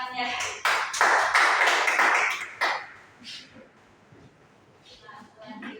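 Students in a biology microteaching classroom clap their hands, a short burst of loud clapping lasting about three seconds, then fading into quiet room sound.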